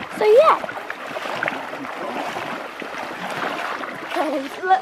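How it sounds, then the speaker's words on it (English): People wade through water at a waterfall pool at Pego do Inferno, with steady splashing and sloshing throughout while voices talk over it. "going to do some filming of me and Maria walking in the water"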